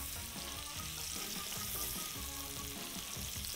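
Mushrooms frying over very high heat in a pan with butter and oil after chicken was browned, giving a steady close hiss and crackle of sizzling with faint stirring.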